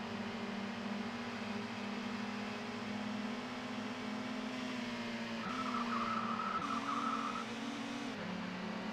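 Car engines drone steadily in the ToCA World Touring Cars racing game while a car spins out, with a brief tire screech rising midway above the constant engine noise.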